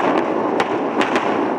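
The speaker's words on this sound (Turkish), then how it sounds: "İsrail jetleri Beyrut semalarında alçaktan uçtu," Israeli jets fly low over Beirut and set off a sonic boom, a loud broadband blast with several sharp cracks within a second and a half.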